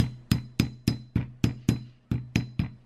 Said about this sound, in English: I've got it on my steel block so I can give it a nice hammering down.